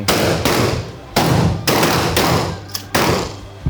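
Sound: combat shotgun firing a single shot

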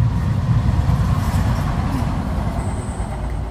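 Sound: train passing on busy railway line

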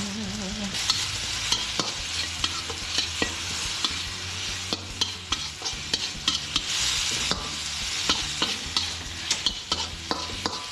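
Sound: stir-frying crocodile meat with holy basil leaves in a pan

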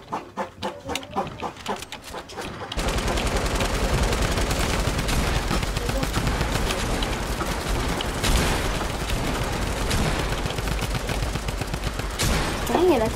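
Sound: gunshots fired in a video game

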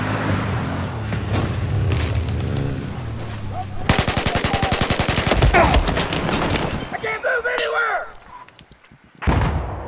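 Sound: gunfire in video game Battlefield 4

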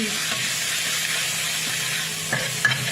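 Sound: stir-frying chili and garlic in oil for Thai basil shrimp

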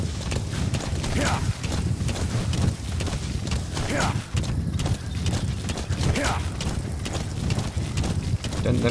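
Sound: D-Horse hooves clip-clopping in the video game Metal Gear Solid V

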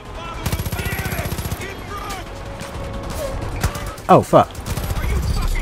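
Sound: gunfire in the video game Far Cry 5

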